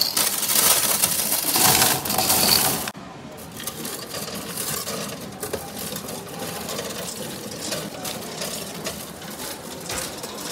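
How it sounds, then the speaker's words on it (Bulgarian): Yellow coins are poured from a full jar into a coin counting machine at a Kaufland store. A loud, dense metallic clatter of tumbling coins lasts about three seconds, then gives way to quieter, irregular rattling and machine whirring. "Сега ще си изсипвам монетите в Kaufland."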